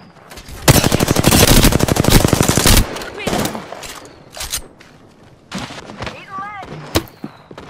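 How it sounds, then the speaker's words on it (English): Rapid automatic gunfire from the video game Apex Legends comes as a loud sustained burst, then scattered single shots and thuds, with some short game sound effects in between. "I am taking fire, friends."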